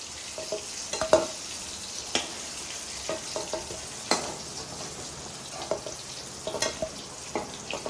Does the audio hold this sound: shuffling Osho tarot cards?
no